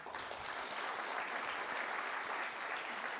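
Dense, steady applause from an audience at a children's champion awards ceremony, honouring the award selectees; the sound is a continuous wash of many hands clapping at an even level with no talk over it.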